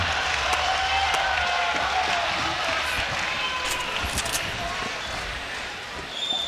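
A large live audience at the Fortnite Summer Skirmish grand final at PAX West, cheering and clapping in a broad, continuous roar, with an announcer's voice over it.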